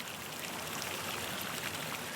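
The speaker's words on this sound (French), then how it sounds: "dans le vallon du bras des étangs, coule une rivière" A mountain river flowing through the Bras des Étangs valley on Réunion, a steady, even rushing of water with no breaks, soft and continuous, with no voices.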